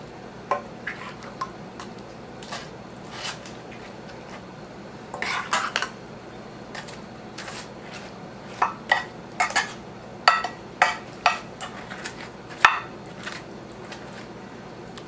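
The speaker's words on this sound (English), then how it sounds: "now I'm going to ladle on some of the meat mixture right over the top of the Fritos" Ladle and spoon clink and tap against a casserole dish as a meat mixture is spooned over Fritos for a walking taco casserole, with soft scattered knocks and scrapes growing busier toward the end, no talking.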